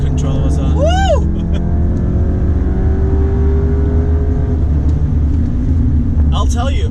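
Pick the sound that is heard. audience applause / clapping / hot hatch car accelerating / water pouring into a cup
hot hatch car accelerating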